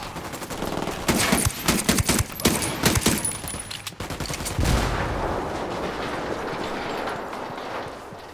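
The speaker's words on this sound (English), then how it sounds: "Taking a shot." Gunshots in Ghost Recon Wildlands, a quick burst of sharp cracking shots in rapid succession, loud and close, followed by a heavier blast and a lingering rumble of noise.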